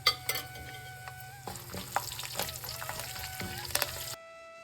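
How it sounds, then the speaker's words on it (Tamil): Curry leaves and asafoetida powder fry in oil and are stirred for tamarind poha. A steady, close sizzle runs under scattered spoon scrapes and taps, then cuts off near the end. "இப்போது கருவேப்பிலையை சேர்த்துடலாம் பெருங்காயத்தூள் இதையும் சேர்த்து நல்லா கலந்து விடணும்"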